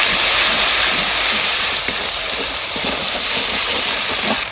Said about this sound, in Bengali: এইবার আমি আদাটা ফোড়ন দিয়ে দিচ্ছি এবার আমি রাঁধুনি বাটাটা দিয়ে দিচ্ছি